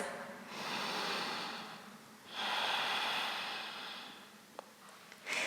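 Breathing during a yoga pose: two long, soft airy breaths drawn in and out, close to the mic, with a faint click near the end.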